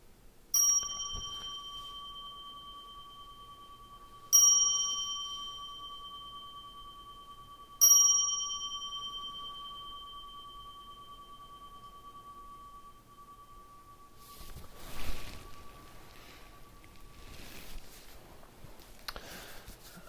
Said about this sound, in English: 3 bells, please.